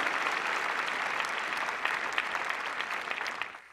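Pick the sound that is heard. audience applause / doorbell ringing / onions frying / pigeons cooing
audience applause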